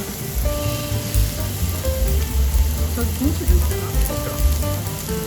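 Pork belly sizzling on a hot cast-iron lid griddle, a steady crackling fry with faint clinks and background noise, no talking.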